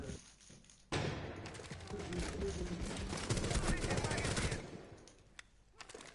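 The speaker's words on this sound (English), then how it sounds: "Flashbang!" Rainbow Six Siege gameplay with a flashbang grenade and gunfire, a sudden loud blast followed by dense, rapid bursts of automatic fire and thuds that taper into scattered shots and quieter game noise.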